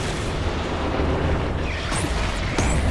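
Antimatter blast from Nova Prime in Warframe, a loud, dense booming burst with crackling debris and a few sharp zaps near the end, filling the whole moment without speech.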